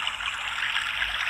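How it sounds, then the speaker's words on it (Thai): Waterfall in Shan State, Myanmar, a steady broadband rush of falling water holding at an even level for the whole stretch, with no voices. "น้ำตกตัด"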